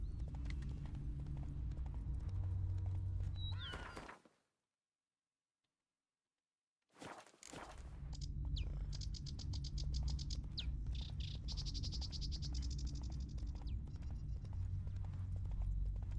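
Hooves of the horse Roach clip-clop rhythmically in Witcher 3, a steady galloping patter with game ambience, cut by a few seconds of total silence before resuming.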